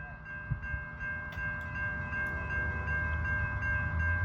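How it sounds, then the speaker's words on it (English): An Amtrak passenger train moves slowly along a siding track at a crossing in Chelsea, Michigan, a steady low rumble with faint horn tones building gradually from a distance and growing louder near the end. "We have Amtrak number 352 coming, folks."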